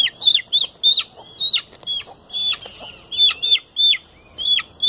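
Chickens in a coop cluck in a quick irregular series of short sharp calls, close and loud against a quiet background, with no talking.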